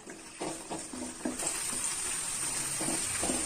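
Onions and manathakkali berries sautéing in a pan for a Tamil tamarind kuzhambu, with a close sizzle and a few short stirring scrapes and clinks, the frying hiss rising and holding steady toward the end.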